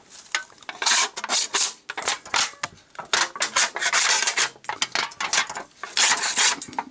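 A Spyderco Para-Military 2 folding knife slices through an aluminum A&W root beer can, giving close, loud bursts of scraping and crinkling metal in irregular strokes, with no talk.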